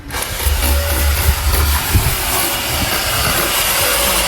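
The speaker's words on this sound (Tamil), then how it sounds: "சரி, வண்டி ரொம்ப அழுக்காக இருந்துச்சுன்னு வாட்டர் வாஷ் பண்ணுறோம்." A pressure washer gun sprays water over a dirty Yamaha R15 V4 motorcycle, giving a loud, steady hissing rush that runs without a break, with low rumbling beneath and no voices.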